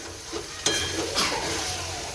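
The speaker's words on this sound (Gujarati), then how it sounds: "પનીરના કટકા કરેલા હોય એ નાખી દેવાનું" Paneer pieces sizzle in a hot pan as they are stirred, a continuous close frying hiss broken by a couple of sharper scraping strokes, with no talking.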